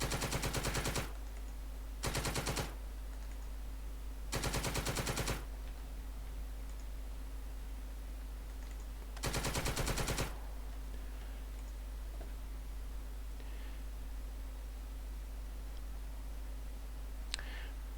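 Bursts of rapid mechanical gunfire ring out in a tank combat game, four separate salvos of varying length separated by quieter stretches with a low steady hum.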